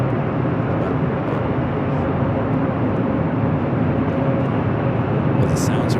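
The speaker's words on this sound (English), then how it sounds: "Aer Lingus arriving at 25 left" An Aer Lingus jet from Dublin lands on runway 25 Left at LAX, a steady, loud broadband roar that holds for the full stretch without a break.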